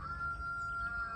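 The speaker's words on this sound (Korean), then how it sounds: "지금 방금 닭이 울었죠." A rooster crows once outdoors in an African village, a single drawn-out cock-a-doodle-doo heard at a moderate distance and fairly faint, with no talking over it.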